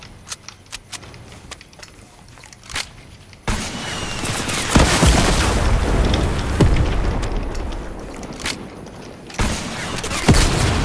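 Rocket explosions and gunfire in a trios battle-royale video game, a few sharp shots followed by a sustained loud rumbling barrage of blasts with further bangs near the end.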